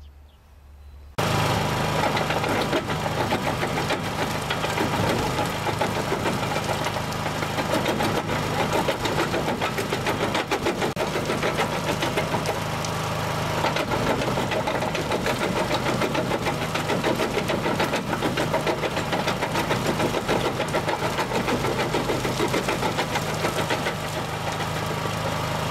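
A small portable jaw crusher with its jaws opened runs steadily while crushing rock, starting abruptly after a quiet second into a loud, continuous mechanical clatter and engine drone that persists unchanged throughout.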